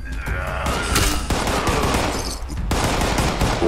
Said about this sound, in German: Die ballern richtig hart